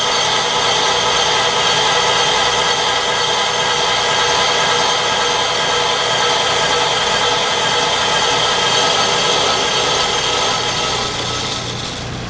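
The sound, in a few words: BL500 brake lathe machining a brake rotor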